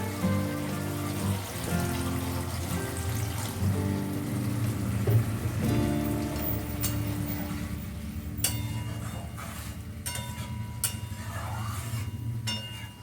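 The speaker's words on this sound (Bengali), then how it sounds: "এবার আমি জল দিয়ে দিচ্ছি" Water is poured into a pan of spiced rohu fish curry, making a continuous splashing, trickling rush that runs for several seconds under soft background music.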